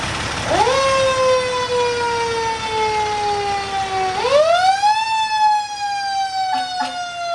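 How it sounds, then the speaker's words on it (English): A loud fire truck siren wails up and down in long sweeping tones, then a couple of short air horn blasts near the end. "we're gonna show you guys what the siren sounds like"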